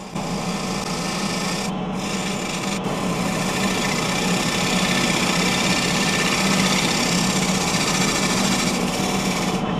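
A gouge cuts a wooden bowl spinning on a lathe, a continuous loud hissing, scraping drone over the motor's hum, with a couple of brief breaks in the cut.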